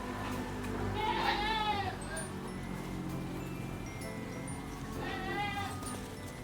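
Goats in a Philippine backyard herd, one of them a doe that recently bore triplets, give two clear, wavering bleats a few seconds apart. They sound fairly close, over a low background murmur.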